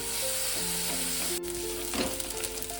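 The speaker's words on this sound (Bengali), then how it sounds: "এটাও আমি একটু মিনিট 2-3 এরকম ভালো করে একটু নাড়িয়ে কাঁচা গন্ধটা যাতে চলে যায় একটু নেড়ে ভেজে নেব" Ginger-garlic paste stirred and fried in a pan, giving a dense, constant sizzle with soft scraping strokes of a spoon, close and fairly loud with no talking.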